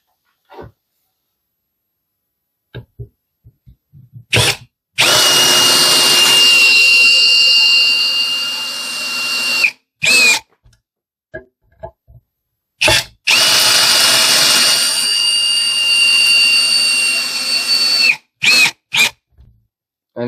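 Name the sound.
cordless drill driving screws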